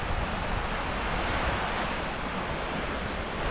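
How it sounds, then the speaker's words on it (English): Sea waves wash onto a beach near Cagliari, Sardinia, as a steady, soft broadband hiss with a breezy edge and no distinct breaks. "It's nice to see some waves as well."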